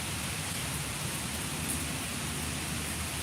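Steady rain falls outdoors as a constant, even hiss of broadband noise that holds at the same level throughout, with no voices heard.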